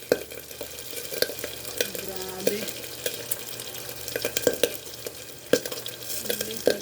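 Pork frying in cooking oil for adobo, a steady sizzle with stirring scrapes and clinks of a utensil against the pan, close by, with a brief spoken exclamation over it.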